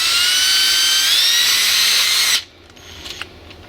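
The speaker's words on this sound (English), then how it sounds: "So I'm drilling a pilot hole" A power drill boring a pilot hole while fitting a USB power port in a Ford Crown Victoria, a loud high-pitched whine held steady for about two seconds, then stopping abruptly, followed by faint handling noises.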